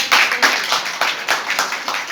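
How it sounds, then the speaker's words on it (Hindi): Rhythmic clapping from an audience at a Yoga Day community event, a steady run of claps close and fairly loud, without talk. "तालियां बजाएं सब"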